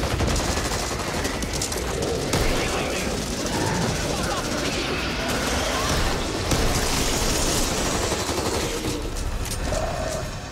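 Continuous gunfire in the video game Back 4 Blood, dense rapid automatic bursts layered with impacts and game noise throughout roughly ten seconds, with someone talking over the shooting.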